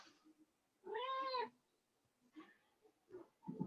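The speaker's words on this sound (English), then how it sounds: "Sorry, the cat." A nearby cat gives a clear drawn-out meow, followed by a few softer short vocal sounds and faint voices, all fairly quiet.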